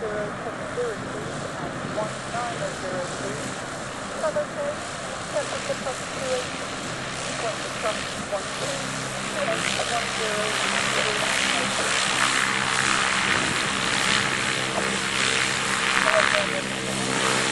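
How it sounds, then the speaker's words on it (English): A light propeller aircraft touches down on the grass runway at the eastern end of Shobdon airfield during a food and flying festival, its steady engine drone swelling slightly toward the end beneath continuous commentary. "Moss Line is just touching down on the eastern end of the airfield on the grass runway there."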